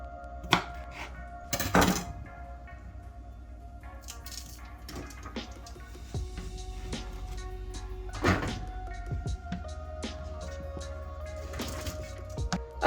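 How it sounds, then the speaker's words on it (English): A knife cuts cauliflower into small cubes on a board, with scattered uneven chops, a couple of sharp louder knocks and clatters of dishes over a quiet kitchen background. "So when you're chopping up your cauliflower, do it as small or as thick as you like"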